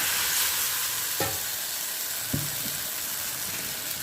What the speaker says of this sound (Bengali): তেলটা গরম হয়েছে, এর মধ্যে আমি সর্ষে আর শুকনো লঙ্কা ফোড়ন দিলাম।